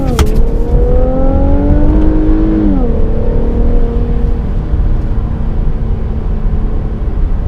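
Infiniti Q60 3.0T rear-wheel drive pulling hard at full throttle out of a corner, engine tone climbing loudly, dipping at a shift, then droning steadily on, close and continuous.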